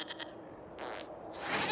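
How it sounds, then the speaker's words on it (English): A goat bleats in the fantasy video game Dragon Age Inquisition, giving a few short nasal cries at moderate distance over a quiet ambient background, with no talk. "we discovered this man attacking the building with a"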